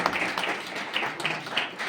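An audience claps during a birthday lamp-lighting ceremony, a steady patter of many hands at moderate distance, fairly soft and continuous throughout.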